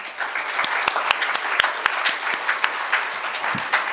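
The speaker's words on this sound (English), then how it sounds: "Please give them a big round of applause." Audience applause for the event managers at the Sankalp Africa 2014 gathering: a steady wash of clapping from a moderate crowd, with sharp individual claps standing out in an uneven rhythm for about four seconds.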